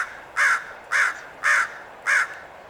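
Four loud crow caws ring out close by at an even pace, each a harsh, short call with clear gaps between, against quiet outdoor background.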